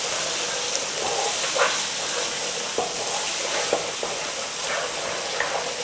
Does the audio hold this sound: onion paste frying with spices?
yes